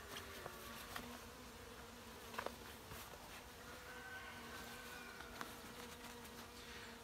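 Honeybees buzz steadily inside a nucleus colony hive after a newly released queen, a continuous close drone with a few brief higher whines as single bees pass near, no voices.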